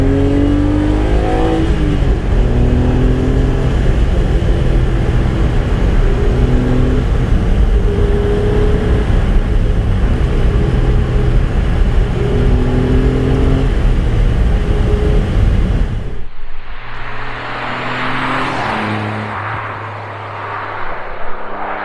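A Renault Clio V6 Phase II drives with a loud, steady engine roar that rises in pitch through the gears, then shifts to a lighter, airier tone near the end, with no talk over it.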